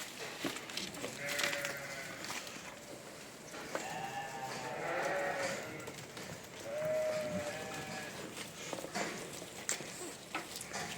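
Goats on a Turkish farm feed on freshly cut mulberry branches, with several drawn-out bleats rising over a steady background of rustling and chewing, the calls coming close by and spaced across the scene.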